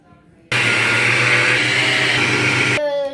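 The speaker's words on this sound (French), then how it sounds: "Maintenant, on va aller le mettre et on va le mixer." An electric blender mixes chocolate cake batter, starting abruptly and running loud and steady for just over two seconds before cutting off, with faint room noise around it.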